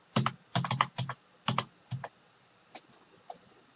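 Computer keyboard keys clack in quick clusters while network settings are entered on an Ubuntu Server install, loud and close at first, then a few sparse, softer taps.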